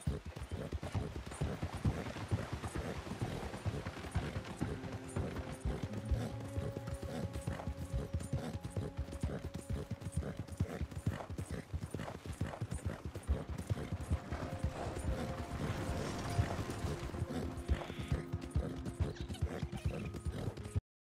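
Horse hooves clip-clop at a steady riding pace in the Red Dead Redemption 2 video game, continuous and fairly close, over a sustained tonal game-music background.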